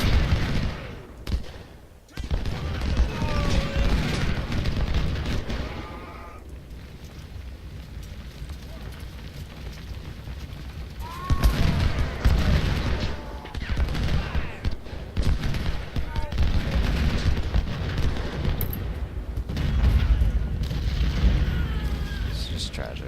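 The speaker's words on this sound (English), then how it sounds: "Hey, look, they actually have some artillery out there." Artillery booms and musket volleys roll across an Ultimate General: Civil War battlefield in uneven waves of crackle and thump, growing denser in the second half, with a voice speaking at times.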